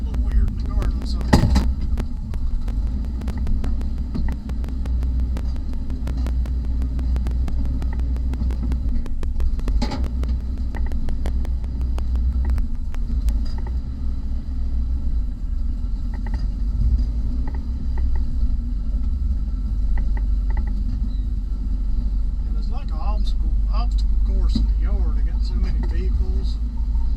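A Chevy pickup truck's deep, steady engine rumble with a throbbing idle runs throughout, with occasional clicks and a voice speaking over it.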